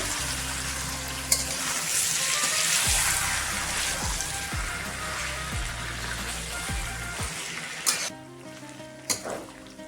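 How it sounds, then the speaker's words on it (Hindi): Chicken skin sizzles as it fries in a pan, a steady crackling hiss punctuated by regular scraping stirs and a few sharp clinks of a utensil toward the end. "ये चिकन स्किन ऐड कर देंगे। अभी मैं 2 मिनट फ्राई करेंगे।"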